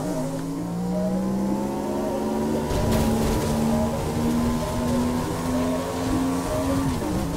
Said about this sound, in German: Wenn die brüllenden Motoren die Bürger in diesem Teil der Stadt nicht aufwecken